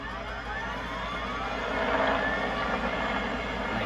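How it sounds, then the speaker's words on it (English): A helicopter in the Fortnite video game drones steadily for the whole stretch, a constant engine whir with rotor texture that swells slightly near the middle, with no talk over it. "And here I got the chopper."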